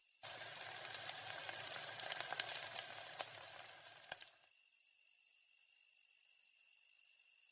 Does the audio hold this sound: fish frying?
yes